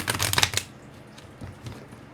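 Tarot cards being shuffled, a quick close riffle of rapid papery flutters that dies away into quieter soft handling.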